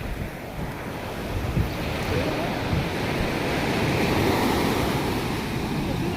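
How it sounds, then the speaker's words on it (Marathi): Sea waves surge steadily while strong wind buffets the microphone on a fishing outing, making a loud, continuous roar with no distinct breaks. "किती मोठा समुद्र"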